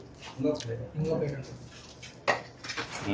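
Ceramic plates picked up and handled at a village tea shop, a few light clinks and clatters close by, mixed in with people talking.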